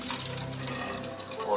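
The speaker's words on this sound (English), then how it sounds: "So all I got to do now is very gently," Liquid poured from a pan into a dish of mac and cheese, a continuous trickling, splashing stream heard close by and lasting the whole moment.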